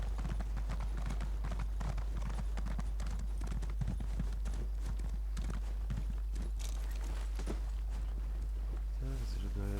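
A horse gallops in The Elder Scrolls Online, its rapid clip-clop hoofbeats running continuously under a voice talking, with a steady low hum beneath and a brief tonal game sound near the end.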